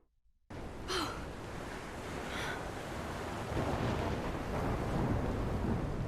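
A storm in the video game Life is Strange: steady broadband wind and rain roar begins abruptly and grows slightly louder, with a couple of brief rumbling gusts early on and no talking.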